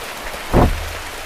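Rain falls steadily as a broad, even hiss, with one brief low thump midway through and no voices.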